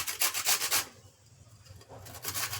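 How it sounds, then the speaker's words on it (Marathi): Carrots being grated by hand for carrot halwa, a steady back-and-forth rasping in quick strokes, loud and close, with a short quieter pause before the scraping resumes. "आणि तुम्हाला दाखवते पहिले त्याआधी ना गाजर किसून घेते"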